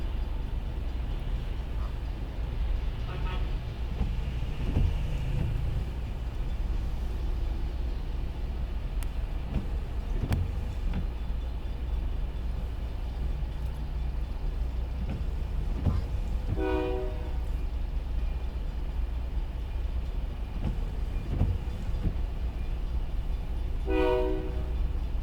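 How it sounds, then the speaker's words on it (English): A train rolls past at a container terminal under steady low traffic rumble, with a few brief horn blasts breaking through the constant noise. "Train is going by on the left"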